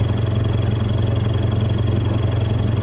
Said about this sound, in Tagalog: Motor lang gagamitin natin.